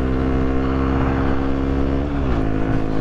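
Motorcycle with a loud exhaust, a steady deep engine drone heard close up with a slight dip and rise in revs, no talking.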